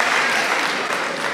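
Audience applause at a graduation ceremony, a dense wash of clapping from many hands, steady and fairly loud across the short stretch.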